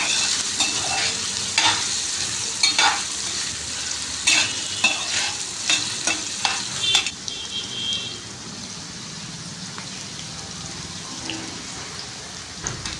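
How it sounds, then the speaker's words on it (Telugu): Grated cucumber sizzles and crackles in hot oil in a pan, with spoon stirring giving irregular scraping clicks in the first half, then settling into a quieter steady fry. "కీరా వేసి ఫ్రై చేసుకుందాము."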